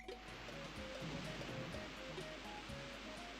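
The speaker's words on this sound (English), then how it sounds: "now he's gonna empty the water for us" Water drains away in the Banjo-Kazooie level Treasure Trove Cove, a soft, steady rushing wash like surf, quiet and continuous under faint game music tones.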